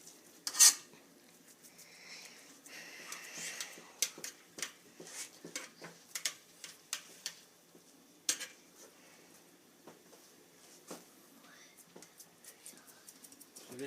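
Crushed potato is spooned into a ring mould on a plate, giving faint scattered clinks and taps of utensil against metal and china in a quiet room.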